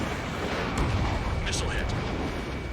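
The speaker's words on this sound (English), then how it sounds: "Missile hit." In Ace Combat 7, a missile strikes an enemy jet, a sustained rumbling burst layered over roaring jet engine noise, with brief higher crackles and a voice speaking in the mix.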